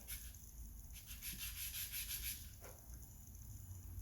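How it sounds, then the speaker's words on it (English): Small wooden pieces for a scale police box model being sanded and angled by hand: soft, steady rubbing and scratching strokes, close and quiet, with a faint high background hiss. "I'm just going to very carefully sand and angle"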